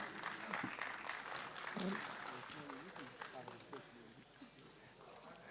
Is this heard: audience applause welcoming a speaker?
yes